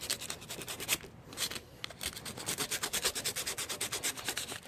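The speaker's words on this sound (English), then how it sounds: "I'm going to start trying to see if I can sand the excessive JB Weld off of this guy" Sandpaper rubbing excess JB Weld off a GY6 scooter handlebar part, close scratchy rasping in quick, steady strokes that speed up toward the end, with no talking.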